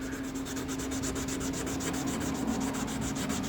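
Wet sanding of a 3D-printed Mandalorian helmet produces rapid, rhythmic back-and-forth scrubbing strokes, close and steady, over a faint constant hum, with no voices.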